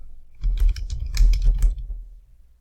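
Someone types a store name into a website builder on a computer keyboard: a short burst of clustered key clicks over about a second, close and fairly quiet, with no talking.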